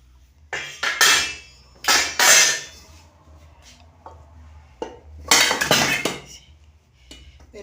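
Cooked gluten-free samosa dough is scraped from a pan onto a tray, producing several loud metallic clanks and scrapes of utensil on cookware in uneven bursts, with quiet gaps between them.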